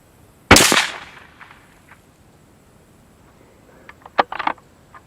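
A single .243 Win rifle firing a 75 grain bullet: one loud, sharp crack with a decaying tail, followed by a few faint clicks and knocks.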